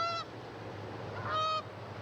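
Two loud, close goose honks ring out a little over a second apart, each a short nasal blast, with a steady low background hum between them and no talking.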